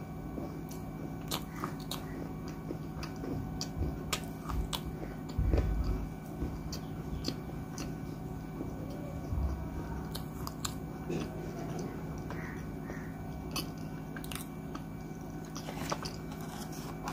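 Crunchy food is bitten and chewed close to the mic, a quiet run of sharp crunches and squishy chewing bites scattered at an uneven rhythm over a low background hum.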